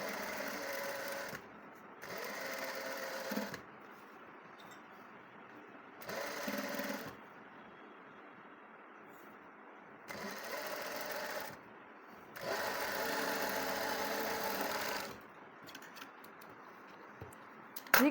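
A sewing machine stitching the neckline of a kurti runs in bursts of a few seconds, a fast mechanical whirr and rattle separated by short quiet pauses, fairly soft overall.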